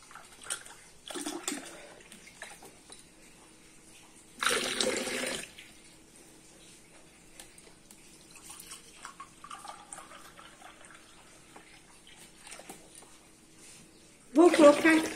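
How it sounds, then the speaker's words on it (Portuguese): Water pours into a pot for an oat cream cake in a home kitchen, in a few short splashing bursts separated by quiet stretches, with a person talking in between. "Nós vamos colocar duas chávenas de água"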